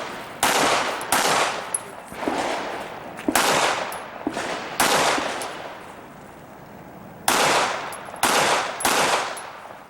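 Pistol shots ring out at an outdoor IDPA shooting match at a wildlife club, sharp loud reports fired in quick pairs and bursts with short pauses between strings, each crack trailing into a brief echo.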